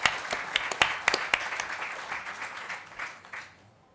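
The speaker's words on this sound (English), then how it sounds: "So I think a round of applause to Mark and all our speakers." Scattered audience clapping in a tent at a talks festival, a few sharp individual claps at first, then a thin patter that fades out toward the end.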